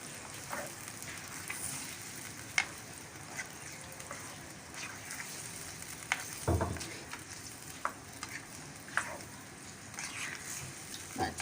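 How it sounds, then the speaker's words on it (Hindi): Pieces of beef sear and sizzle in a pot for a spicy qorma, a soft, even crackle with scattered clicks and scrapes of stirring, fairly quiet and close. "अच्छी तरह इसको भून लेंगे"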